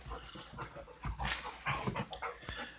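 A pet dog panting while playing, close and fairly loud, with quick uneven breathy huffs and occasional soft whimpery sounds, with no talk.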